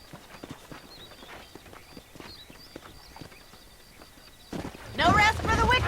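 Horse hooves clip-clop in a steady walking rhythm across the Red Dead Redemption (2010) frontier outside Armadillo, with faint game ambience, before a voice starts talking near the end.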